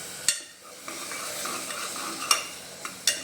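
A hot pan hisses and sizzles steadily as water is poured into a gravy, with a few sharp clinks of a utensil scraping or tapping against the metal.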